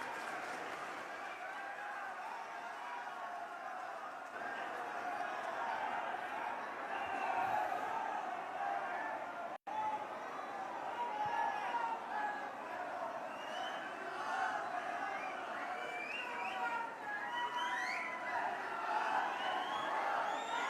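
A large crowd at a political rally cheers and claps for an arriving leader, a dense continuous roar of applause and whoops heard from within the audience for about twenty seconds.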